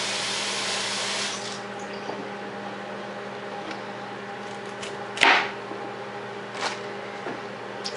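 Tap water runs steadily to rinse a head of broccoli in a kitchen, a broad hiss that is loudest at the start and eases slightly, with a brief splash or clatter partway through.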